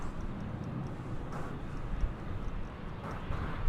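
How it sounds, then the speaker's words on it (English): Steady broadband jet roar from an MD-11 airliner taxiing or rolling at DFW airport, a continuous distant rumble with slight swells and no talk. "And now we do have the MD-11"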